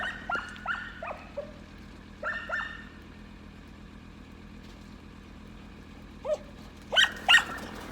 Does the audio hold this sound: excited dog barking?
yes